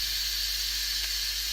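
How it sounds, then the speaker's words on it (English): Steady, loud hiss of steam rising from a pot of chicken stock rice cooking on the stove, a constant broadband rush with no breaks and no talk over it. "once it gets all steamy, I don't know if you can see it, but you probably can hear it"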